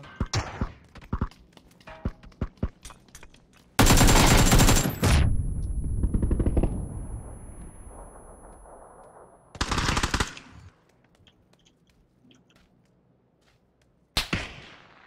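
Automatic gunfire from a PUBG match on the Sanhok map: scattered single shots, then two long, loud full-auto bursts with a trailing echo, and a final sharp burst near the end. No talking.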